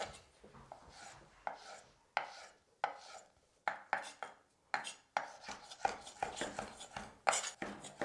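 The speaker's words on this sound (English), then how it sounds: "All right, guys, I finally finished chopping up all those tomatoes." Fresh tomatoes are diced into medium pieces on a cutting board, a knife striking in quick irregular bursts of crisp chops with short pauses between runs, close and clear without talk.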